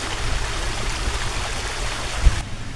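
A stream near a waterfall on a hillside trail rushes steadily and fairly loud, as one continuous wash of water with no voices.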